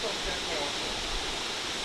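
A forest waterfall near Rio de Janeiro gives a steady, broad rushing hiss of falling water, continuous and fairly soft across the short stretch.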